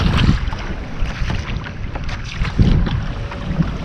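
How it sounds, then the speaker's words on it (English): Gusty wind buffets the microphone while choppy water slaps and splashes against a Hobie fishing kayak out on Matlacha Pass, a loud steady rush with irregular wave knocks. "It's windy. As you can see, there's pretty good chop."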